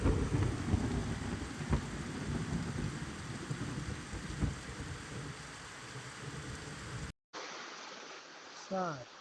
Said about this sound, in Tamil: ரொம்ப அதிக இடி மில்லோட மழை பெய்யுது சார்